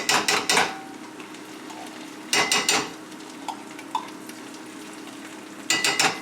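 Food sizzles steadily in a pan while a utensil scrapes and clatters in short bursts of stirring, with tomato among the ingredients.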